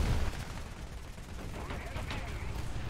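Aircraft strafing run in a tank battle game, a continuous rattle of rapid gunfire with dull booms underneath, loud and steady for a few seconds, with a voice faintly mixed in.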